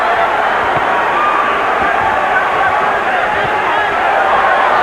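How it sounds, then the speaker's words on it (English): Dense arena crowd roaring and chanting at a boxing match for Jesus Chavez, a loud steady wash of many voices filling the space without pause. "Pro Chavez crowd chanting already."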